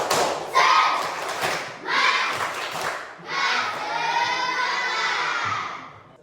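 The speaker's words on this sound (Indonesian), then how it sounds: "Ya, tepuk semangat." A school class of children performs a rhythmic spirit clap in the classroom, with loud bursts of clapping and shouting in three surges, the last one drawn out.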